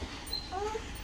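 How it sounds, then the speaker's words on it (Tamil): A pet dog at home gives a brief, thin, high whimper, a couple of faint rising whines close by over a constant room hum. "இப்போ நெக்ஸ்ட்டு பாருங்கள், எங்கள் நாய் இருக்குது,"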